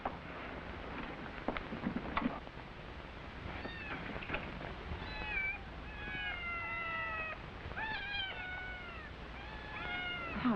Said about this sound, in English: Cats may stay.